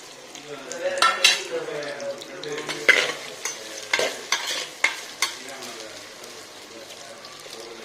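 Tomatoes sautéing in a clay pot for a Chettinad fish curry, with soft sizzling under repeated sharp scrapes and taps of a stirring spoon, close by and without talking.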